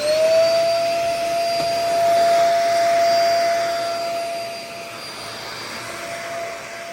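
A corded Dyson Ball Multi Floor Plus upright vacuum cleaner runs steadily and loudly, its motor holding a constant high whine with a broad airy rush throughout, without talk.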